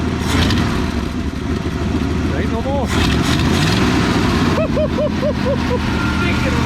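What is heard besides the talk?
1963 Ford Fairlane 500 260 V8 engine idling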